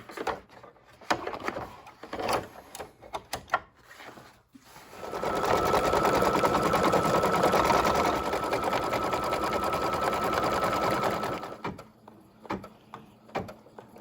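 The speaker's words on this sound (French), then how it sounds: "je remets le motif, le cadre à la machine pour finir la broderie" An embroidery machine stitches a Mylar motif held in a hoop frame, running in one steady loud whirring burst of about seven seconds, with light handling knocks and clicks before and after.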